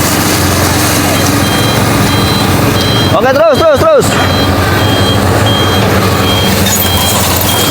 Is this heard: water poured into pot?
no